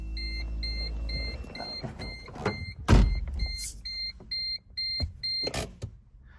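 Solectria Force electric car being switched on with a key: a steady series of short electronic beeps pulses in a regular rhythm alongside a few clicks and relay thunks, close and moderately loud with no talking.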